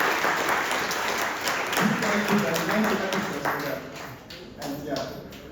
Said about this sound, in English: big applause for our team working a lot